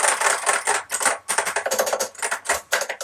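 Fast, continuous typing on a Mac keyboard up close, with crisp clacking keystrokes in an uneven, busy rhythm.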